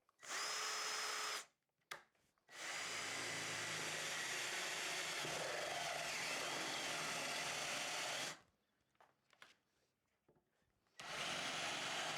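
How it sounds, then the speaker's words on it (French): A Ryobi RDD18-0 18V cordless drill bores into metal with a step bit, whirring loud and close in three runs: a short burst, a long steady grind, then a final burst, separated by near-silent pauses with faint clicks and no talk. "On va y aller avec une mèche métal progressive."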